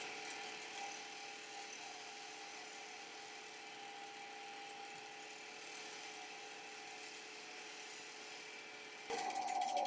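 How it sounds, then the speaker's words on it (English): A wood lathe spins at about 2200 rpm while a 3/8 spindle gouge shapes a wooden scoop handle, giving a steady, close whirring hum with a faint scraping texture. A louder shift comes near the end. "So I'm going to use a little 3/8 spindle gouge here. Okay, I got that at about 2200 right now."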